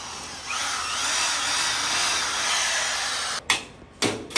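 A cordless power drill whirs steadily while backing screws out of a mosquito screen door frame, loud and close, then stops and briefly restarts in two short bursts at the end.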